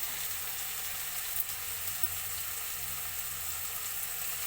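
Tomatoes frying in a pan for aloo dum, an Odisha-style potato curry, give a steady, soft sizzle and low bubbling that runs evenly throughout, with no one speaking.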